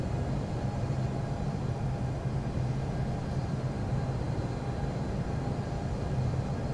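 Steady low engine drone and broadband airflow of a simulated Boeing 737 MAX 8 on short final approach to Reykjavik-Keflavik in the Infinite Flight game, continuous and even throughout with no speech.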